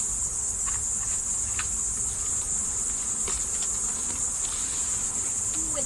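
Honey bees hum and buzz steadily around an open hive whose boxes have cross-combed frames, a constant insect drone with brief sharper wing passes close by, outdoors with no talking.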